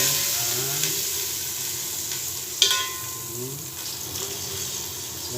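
Butter sizzling in a pan before shrimp are added, a steady hissing fry with one sharp clink of a utensil partway through, heard close and alone.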